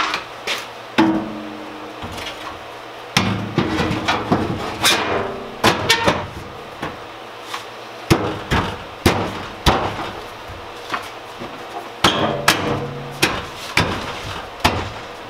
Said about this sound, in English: I'm just going to be possibly needing to hammer some corners down and line things up